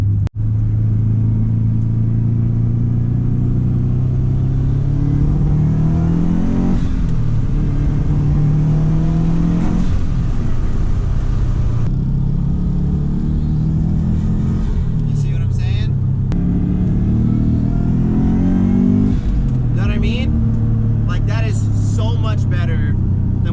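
A Subaru WRX engine pulls hard at maximum boost after a clogged filter was found, a loud, steady in-cabin drone rising and shifting in pitch through several gear changes, with a voice talking over it.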